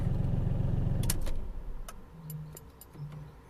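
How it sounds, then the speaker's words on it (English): An idling 2005 VW Polo engine rumbles steadily, then shuts off, followed by a few faint clicks and ticks in the quiet. "we're going to turn the engine off."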